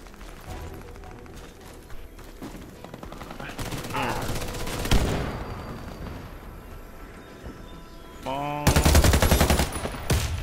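Gunfire in the first-person shooter Warface, free-for-all match: bursts of automatic rifle fire with nearby shots and impacts building to loud, close volleys, with faint background voices between.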